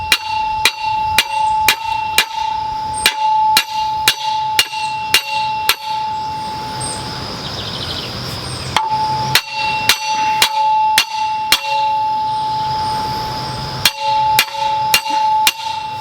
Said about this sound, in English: I'm going to get my larger sledgehammer and use the side and just pound it in.